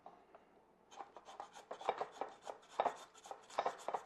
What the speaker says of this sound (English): I've already peeled the carrots, and this is going to shred them.